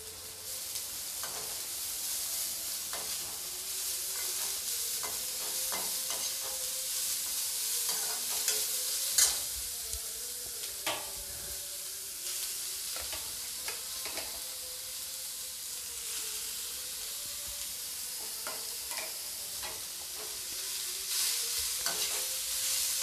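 Grated cabbage is stir-fried in a pan for a cabbage paratha filling, giving a continuous sizzle and hiss with repeated scraping and stirring clinks throughout, close and fairly loud, with no voices.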